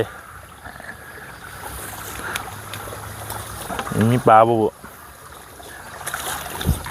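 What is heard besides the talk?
water flowing out of a pipe outlet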